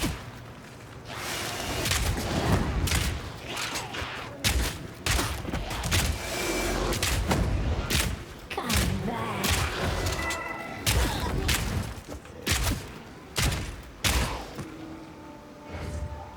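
A crossbow fires shotgun-like rounds in Path of Exile 2 combat. Heavy, booming shots repeat every second or so over a dense, rumbling battle din, alone without talk.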